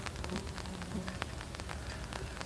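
Black flies bounce off a tent tarp at a campsite in the hills and make a steady patter like rain. Scattered soft ticks sit over a constant hiss.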